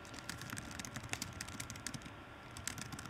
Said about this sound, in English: if I just keep typing